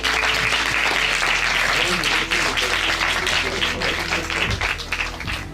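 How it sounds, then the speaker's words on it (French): Audience applause at a gathering fills the whole stretch, steady loud clapping with crowd noise and some voices mixed in underneath. "On va applaudir."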